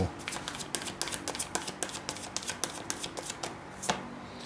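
A deck of tarot cards is shuffled by hand in a quick run of soft, crisp clicks and flutters, fairly quiet and close.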